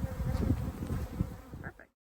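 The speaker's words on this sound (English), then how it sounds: "these are two feral swarms" A dense, close buzzing of a feral honeybee swarm hums steadily for a couple of seconds, then cuts off abruptly.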